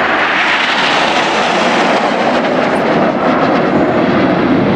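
Red Arrows jets in a flying display at RNAS Yeovilton make a loud, continuous roar that fills the clip with a broad rushing noise and no pause.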